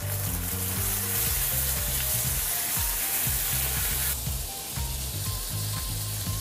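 Food fries with onion in a hot pan, a dense continuous sizzle and hiss loud and close, with a few stirring scrapes and a slight drop in intensity partway through.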